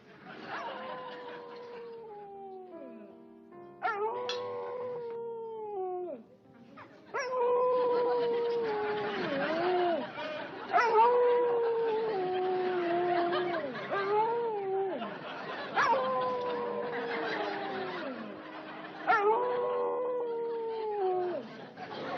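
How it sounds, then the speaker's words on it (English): A dog howls in long, wavering, mournful cries, pausing between several drawn-out howls that rise and fall in pitch. "That's our dog."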